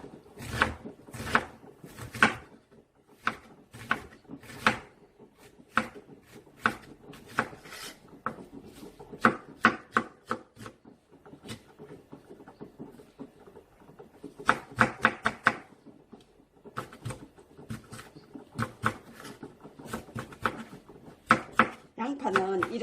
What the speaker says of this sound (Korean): 양파는 이렇게 곱게 다져서 준비해 주시고